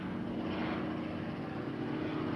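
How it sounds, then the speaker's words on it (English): A helicopter flying overhead, a faint, steady engine drone with a soft rumble that holds throughout, heard from a distance with no talking. "Helicopter."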